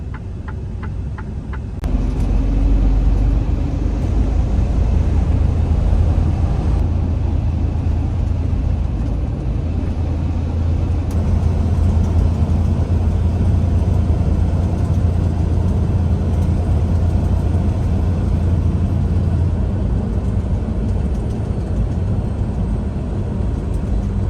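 Interior of a Freightliner Cascadia truck with about 200,000 miles, driving along: a steady deep engine and road rumble with broadband cab noise, continuous and fairly loud throughout, no talking.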